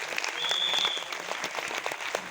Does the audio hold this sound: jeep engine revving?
no